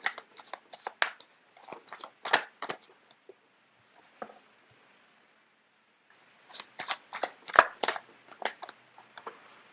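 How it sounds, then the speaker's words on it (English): Tarot cards being shuffled by hand, two clusters of quick papery riffles and slaps separated by a short quiet pause, close and fairly soft. "So let me just get the cards out first of all."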